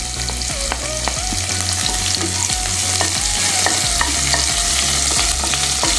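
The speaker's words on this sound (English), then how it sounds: "Saute it nicely." Cumin seeds, chopped green chilies and ginger sizzle as they are sautéed in a pan for dabeli filling. The frying is steady and close, and a spoon scrapes and stirs at a regular rhythm throughout.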